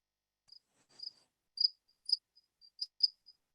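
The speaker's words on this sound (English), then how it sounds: "Crickets." Crickets chirp during a quiet pause in a library trustees meeting, a series of short, thin, high chirps in an irregular rhythm against near silence.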